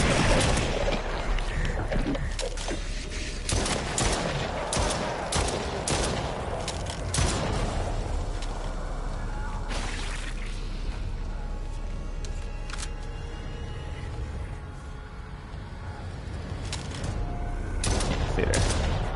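Gunfire in the video game Stray Souls, repeated loud sharp bursts and volleys of shots in quick succession over a noisy background, continuing throughout with brief lulls.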